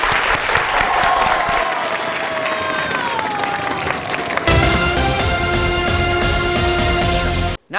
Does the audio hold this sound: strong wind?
no